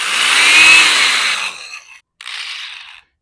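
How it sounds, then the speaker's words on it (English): A power drill bores pilot holes into wood nearby, making two loud whirring bursts: a longer one of about two seconds, then a shorter one after a brief pause. "Let's make our pilot holes."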